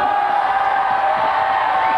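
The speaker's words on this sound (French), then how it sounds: "c'est la première fois qu'on applaudit la carte satellite" Studio audience of a French live television show at Cannes, 1996, applauding and cheering the satellite weather map: a loud, steady wash of crowd noise with whoops that holds throughout.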